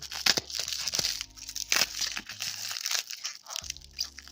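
A plug removed from a 2004 Honda CRF250R is cut open, giving close crunching, cracking snaps and crinkling bursts with brief quieter gaps in a garage-like space.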